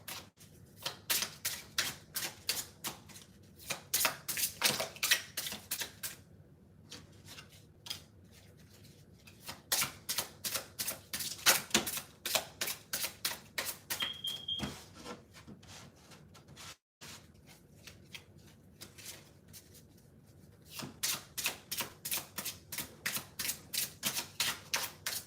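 A deck of Lenormand-style cards is riffled and handled in quick, rhythmic bursts of papery flicking and rubbing, with pauses in between. It is quiet and close.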